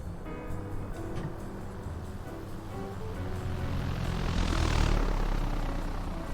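BN-2 Islander propeller plane from Flight Simulator sweeps past in a flyby, its engine drone building steadily to a loud peak near the end, with a swelling rushing wash as it passes close.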